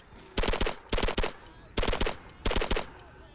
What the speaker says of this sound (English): Automatic machine gun for the win!